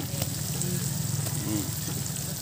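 Banana slices deep-frying in hot oil for crispy chicharon, a continuous close bubbling sizzle with faint crackles, no voices.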